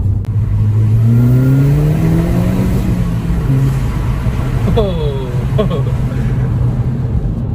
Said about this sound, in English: Just listen to this exhaust sound. So this has got the Sports Cat and the R32 conversion kit on it.